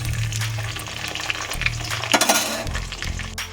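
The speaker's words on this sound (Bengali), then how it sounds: "দেখো এটাকে একটু তেলের উপর অল্প করে আগে একটু ভাজা ভাজা মতন করে নেব" Tomato and potato pieces fry in a little oil, giving a close, continuous sizzle with stirring scrapes and light clinks of a utensil against the pan, alongside a low steady hum.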